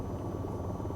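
Steady, loud rotor drone of an AH-94 helicopter in the flight game VTOL VR, a continuous low whirring rumble with no break and no talk over it.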